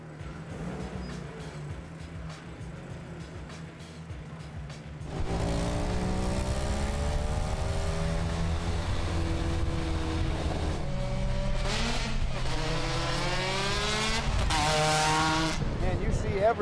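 A supercharged Ariel Atom, an open featherweight car, drives along. The engine note swells louder after a few seconds and rises and falls with acceleration while people talk over it.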